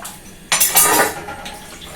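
Dishes and vessels being washed at a sink, water splashing and clattering in short bursts, a brief busy stretch then quieter rinsing, close by with no talk.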